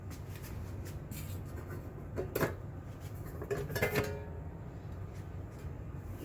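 Metal casing of a Pyramid Studio Pro preamp being pulled apart with the screws removed, giving a few light, close metallic clinks and rattles over a steady low background hum.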